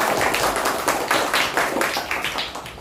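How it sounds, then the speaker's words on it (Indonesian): Schoolchildren in a classroom clap for a classmate's answer with lively, uneven hand claps that keep going at close range throughout. "Tepuk tangan untuk"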